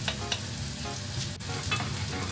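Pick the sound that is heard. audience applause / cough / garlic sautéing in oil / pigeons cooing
garlic sautéing in oil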